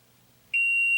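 A single sharp, high electronic beep tone from a Simple Sense WiFi water leak detector alarm starts midway and holds steadily to the end, loud and clear over a quiet background.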